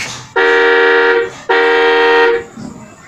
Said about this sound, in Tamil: ரெண்டாவது ஹார்ன் அடிக்கிறது.